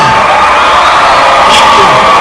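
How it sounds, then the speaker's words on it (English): A graduation crowd at Stamford High School in 2011 cheers and whoops loudly with dense, steady crowd noise throughout, sounding near and full. "hear louder applause than that."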